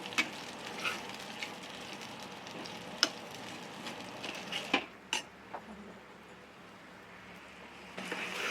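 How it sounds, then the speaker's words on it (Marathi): Masala paste for a mutton dish sizzles in hot oil in a pan. A steady close frying hiss runs throughout, with sharp clinks and scrapes of a spoon against the pot. "ही छान तेलामध्ये फ्राय करायची."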